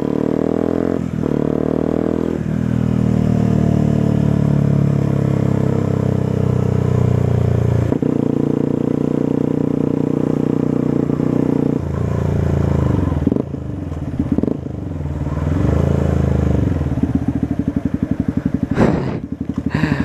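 Yamaha WRX 125 motorcycle fitted with an Arrow exhaust, ridden close up with the engine humming steadily through repeated rises and drops in revs, ending in a rough, pulsing throb.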